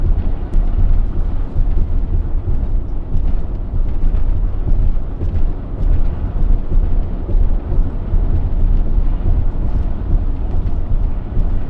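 Thunder from a building thunderstorm near Limon, Colorado, rolls as a continuous deep rumble for the whole stretch, loud and steady with no voices over it.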